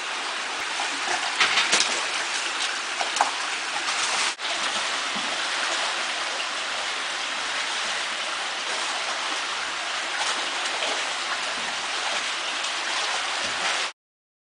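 Water pours over a salmon weir beneath a bridge on Umbrella Creek, a steady, close rush and splash that holds evenly throughout without voices.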